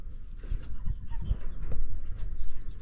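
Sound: young mono pheasants

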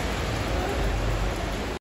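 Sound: heavy rain in Alicante street

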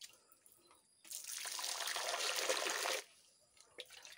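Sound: water flowing from a hand pump

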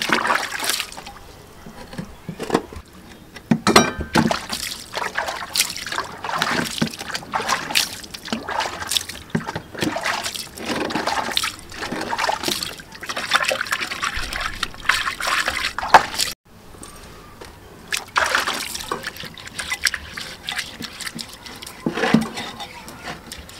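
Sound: washing a new iron vessel by hand with water

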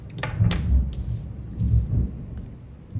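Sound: thunder outside

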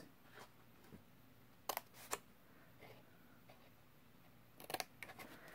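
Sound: scissors cutting small cardstock tabs

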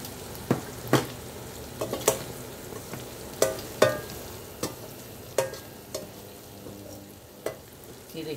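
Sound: okra (bhindi) frying with spices

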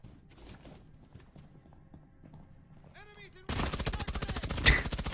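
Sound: gunfire in the video game Rainbow Six Siege

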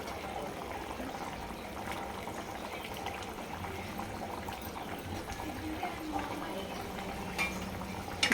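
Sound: tamarind stew (pulusu) with ivy gourd simmering in pot

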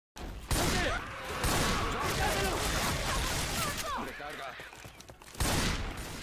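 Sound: gunfire in a video game

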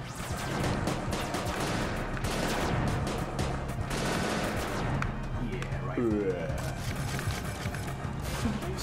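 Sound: rifle gunfire in a video game

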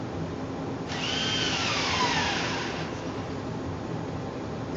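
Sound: power drill driving a screw into wood

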